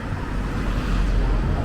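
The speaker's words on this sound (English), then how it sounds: "You can probably hear all the traffic in the background as well." Continuous low road traffic rumble carries from nearby roads at Batford by the River Lee, a steady broadband roar with no distinct passing vehicles, heard outdoors at moderate loudness.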